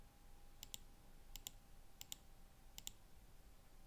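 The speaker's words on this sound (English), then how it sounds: "I'm clicking the button twice" A computer mouse button is clicked twice in quick succession, repeated four times as crisp, close double clicks over a faint steady hum in a quiet room.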